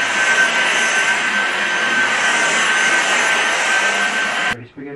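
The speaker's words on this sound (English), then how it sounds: "You guys are not going to like this, but I'm going to vacuum." A household vacuum cleaner runs in a steady, loud whine and roar with a constant tone, then cuts off abruptly, leaving a quieter room with faint talking.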